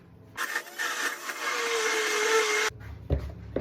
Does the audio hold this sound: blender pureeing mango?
yes